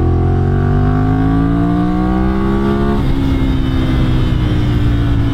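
Ducati Monster 796 motorcycle accelerating up close, engine pitch climbing steadily for a few seconds before a gear change drops it, then pulling on loud and continuous with no talking.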